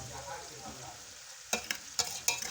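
A garlic and hot chili mixture drops into the pan, and a soft background crackle jumps into several sharp bursts of sizzling in quick succession, with clanks of a utensil, close and without speech.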